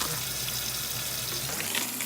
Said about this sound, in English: We're gonna let some water run on this for a little bit.